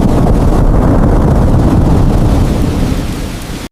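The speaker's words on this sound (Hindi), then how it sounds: "आसमान में तेज गर्जना होने लगी। काले बादल आसमान में छा गए।" A storm with thunder and heavy rain, a loud, dense, rumbling roar of downpour that holds steady, then eases off slightly before cutting out.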